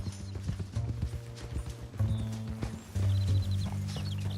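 Horse hooves clip-clop steadily at close range in the Red Dead Redemption 2 epilogue, with occasional whinnies and low game music running underneath.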